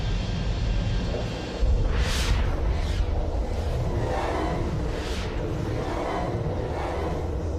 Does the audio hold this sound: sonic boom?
yes